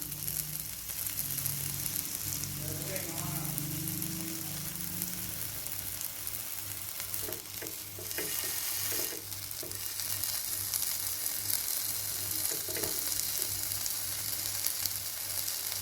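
Pineapple sticks fry in a pan with a continuous, even sizzle and crackle, joined by occasional scraping and clinks of turning, and no one speaks.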